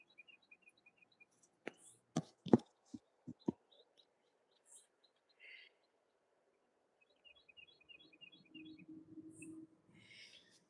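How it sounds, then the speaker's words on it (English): Birds in a garden give short, high chirps and brief trilled phrases, faint and scattered, alongside a few sharp nearby knocks and a soft low murmur of a voice near the end. "the birds are chirping loud right now."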